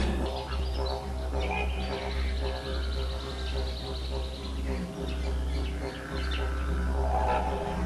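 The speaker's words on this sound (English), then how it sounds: "This is just one of the many wild birds that lives in this park." A wild bird calls in a park near Alice Springs, its chirps and whistles thin and fairly faint over a steady pulsing hum that runs beneath the whole stretch.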